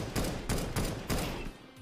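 Video game gunfire cracks out in a quick run of four or five loud shots with short gaps between them, close and punchy.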